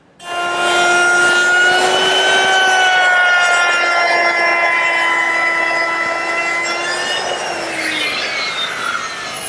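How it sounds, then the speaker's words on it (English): A router fitted with a chamfering bit bevels the edges of a wooden shelf for an umbrella stand, a loud, steady high-pitched whine that runs continuously for the whole stretch and tapers slightly at the end, with no talking. "Using a chamfering bit, I've beveled the edges of the shelf."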